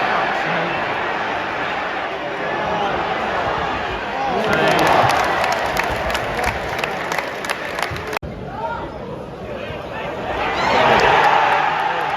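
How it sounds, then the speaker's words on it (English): A football crowd in a stadium's main stand, fans in the hospitality seats clapping at the Bournemouth v Arsenal match: sustained applause and crowd noise that swells and fades, with a sharp slam partway through. "So half the people in the main stand in hospitality are all clapping."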